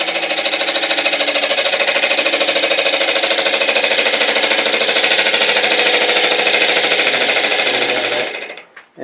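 A detail spindle gouge shaves a wooden jewelry box spinning on a lathe, giving a loud, unbroken, buzzing scrape with a fast chattering pulse that holds steady for about eight seconds before cutting off.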